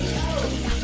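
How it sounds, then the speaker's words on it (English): Water dumped from a cooking pot into a sink, a short steady rushing splash with no pause. "Go ahead and dump my water out."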